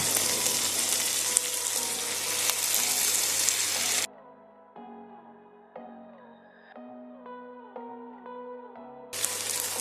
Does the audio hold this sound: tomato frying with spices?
yes